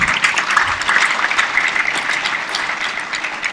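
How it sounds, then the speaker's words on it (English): A hall full of delegates applauds at the opening ceremony of the 2020 Tanzania International Model UN, producing a dense, steady wash of clapping that holds at full strength throughout. "please give her another round of applause"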